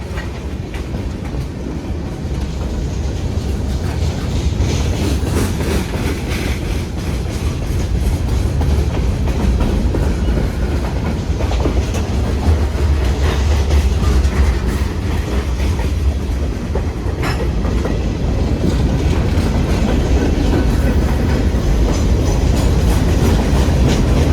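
A loud freight train rumbles past close by, a continuous heavy roar with clattering wheels and rattling boxcars that builds and holds for the whole stretch.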